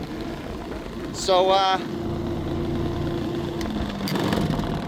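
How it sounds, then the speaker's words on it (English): A loud, broken ceiling exhaust fan with its exhaust port snapped off vibrates and rattles in a steady, continuous drone, while someone talks briefly over it. "they said the exhaust fan's making a loud noise. As you can see, this thing is vibrating to all heck right now."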